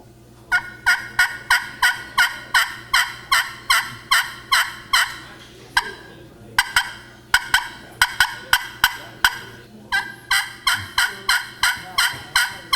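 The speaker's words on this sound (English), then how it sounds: "It's higher, it's raspier, and it really has turkey sound." A crystal-surfaced friction pot turkey call sounds a long run of sharp, high, raspy yelps, several quick rhythmic series with short gaps between them, close and loud with no talking.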